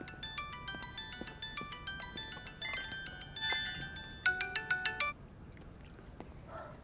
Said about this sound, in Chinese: 爸，你电话。